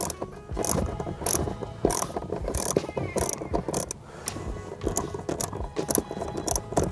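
A ratchet wrench clicks in quick bursts while loosening the bolts of a car seat, close and distinct, with short pauses between rapid ratcheting runs.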